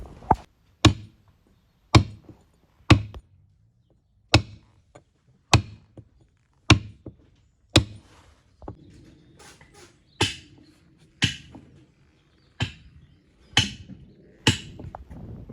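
A caulking mallet and iron driving oakum into the deck plank seams of a Thames barge, a steady series of sharp, close wooden knocks roughly one per second, some doubled, with faint scraping between strikes.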